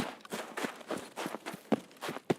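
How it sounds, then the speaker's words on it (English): Player-character footsteps in a video game patter in a steady, quick rhythm of soft, close thuds that run throughout. "I think it was my own footsteps."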